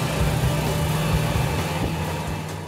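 Ford Endeavour SUV driving on the road, a steady low engine hum and tyre rumble from inside the cabin, fairly constant and easing slightly toward the end.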